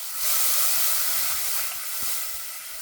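Tamarind juice hits hot fried masala in a pan for drumstick rasam, giving a loud, steady steamy hiss that swells quickly and holds for a few seconds with no voices.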